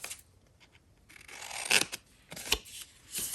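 Scissors trimming a Halloween craft, a few quiet, short snips and rustles spaced irregularly, close by, with no talk.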